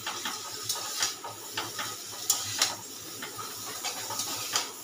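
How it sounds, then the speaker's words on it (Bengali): Flat beans fry in oil in a pan with a continuous sizzling hiss. Soft pops and spatters break through it in an irregular rhythm, heard close up. "এবারে আমি একটু হালকা করে ঢাকা দিয়ে দেবো, দিয়ে ভাজা হবে সিমটা।"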